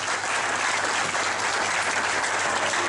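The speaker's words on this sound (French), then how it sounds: "Joseph Kabila Kabange, pour lequel je vous demande d'applaudir très fort." A large audience at a public ceremony in the Democratic Republic of Congo breaks into sustained, dense applause, steady and loud throughout with no break.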